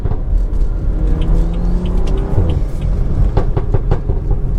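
A 2012 BMW 335i F30 downshifts, its engine giving a deep, close rumble as the revs rise and fall briefly.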